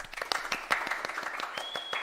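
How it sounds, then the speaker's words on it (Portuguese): A small group clapping in a podcast studio to welcome a sexologist guest: quick, close, individually distinct hand claps in an uneven patter, with a faint steady tone appearing near the end. "Palmas para Lu!"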